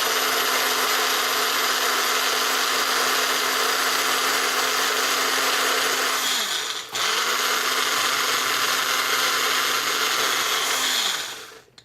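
A blender whirs loudly and steadily making a green smoothie, stops briefly, then starts up again and runs before cutting off at the end.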